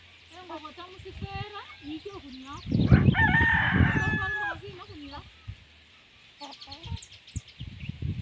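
A rooster crows loudly and close by in an African village, one long crow amid clucking fowl, with people talking around it.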